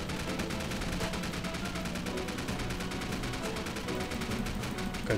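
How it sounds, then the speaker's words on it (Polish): Sustained gunfight in White Gold: War in Paradise, rapid steady automatic fire rattling continuously at a fairly loud level with little pause, a voice faintly under the shooting. "konkretna tutaj strzelanina"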